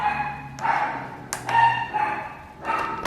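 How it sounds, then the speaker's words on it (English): Dog barks at an arriving package delivery, several short loud bursts in irregular succession indoors, close by. "my dog was going crazy because there's one more package coming"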